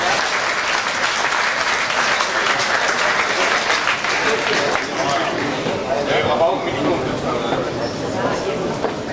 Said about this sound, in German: Applaus einfach nur für Romano Romasco